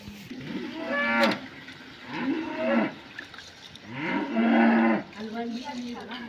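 A cow moos several times, long low calls coming close and loud, with short quiet gaps between them.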